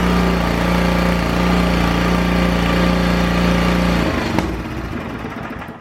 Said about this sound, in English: Got it on fast idle.